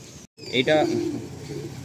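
Madrasi pigeons cooing inside a loft, with a close, throaty coo rising after a brief silence and then settling into softer murmuring.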